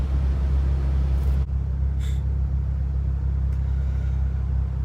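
A Toyota Supra with a 1JZ engine crawls along in slow traffic, its steady low rumble dominating throughout, with a brief dip midway and faint higher hiss above.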